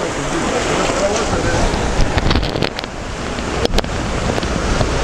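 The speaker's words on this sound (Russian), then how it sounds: "Волны." Sea waves wash against rocks below cliffs along the coast at Muratpaşa, Antalya, in a continuous loud roar with heavy wind buffeting the microphone.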